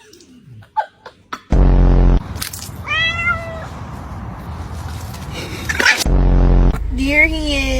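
A cat gives several loud, close, drawn-out meows, some rising and whining, mixed with harsh bursts of noise and a few short voice sounds at the start.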